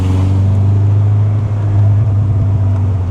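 A steady, loud engine drone from an ST170-engined Ford Escort van, with a deep, constant low hum and throaty induction roar, held at an even level throughout.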